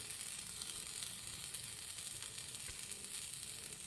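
Egg omelette frying in a pan, a steady close sizzle and hiss that runs without a break and without any voices.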